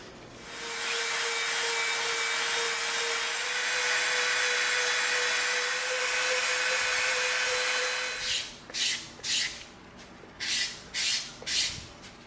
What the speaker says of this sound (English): now we're going to come in with our Dremel, and we're going to Dremel a bevel